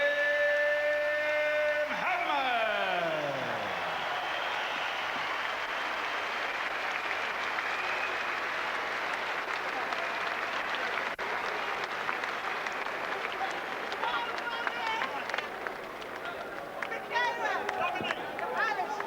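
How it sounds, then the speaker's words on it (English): A boxing arena crowd applauds and roars loudly and steadily after a WBO featherweight title fight, with a tonal announcer voice near the start and dense crowd noise throughout. "A round of applause for the game challenge of Jose Badillo"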